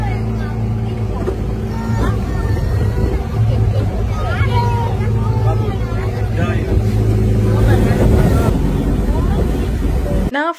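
Motorboat ride on a lake in Nuwara Eliya, Sri Lanka, with a steady loud engine drone and water rush throughout, nearby people chatting over it and wind buffeting the microphone.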